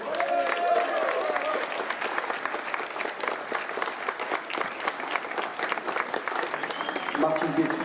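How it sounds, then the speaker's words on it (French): An audience at a horror film festival jury presentation claps warmly for a jury member, sustained dense applause from a large crowd in a hall, with brief talk at the start and end. "je vous demande d'applaudir aussi très fort Martin Beswick"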